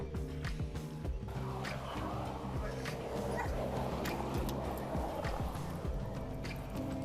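Police drug-sniffing dog heard through a body camera, barking and yipping repeatedly in a steady run of sharp calls over loud, constant background noise and scuffling, with a voice talking faintly underneath.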